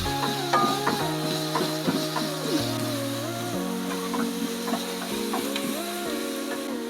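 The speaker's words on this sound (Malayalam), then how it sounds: "ഞാൻ ഇതിലേക്ക് ഒരു 10-20 പീസ് അണ്ടിപ്പരിപ്പും കൂടി ഇട്ട് കൊടുക്കുവാണ്" Cashew nuts fry in hot oil with salt in a pan for a chicken curry, giving a steady sizzle with scraping stirs and clinks throughout.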